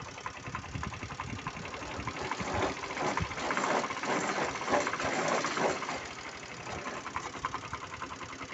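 A mini tractor engine running in gear, pulling a vibrating potato digger, gives a steady mid-pitched drone with rhythmic knocking vibration, moderately close, the level rising slightly midway.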